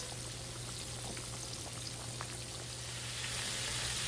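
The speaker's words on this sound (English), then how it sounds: "I'm gonna bring you over here so you can see it frying." Chicken fries in hot oil in a pan with a steady, dense sizzle, continuous and close, with a low electrical hum underneath and no talking.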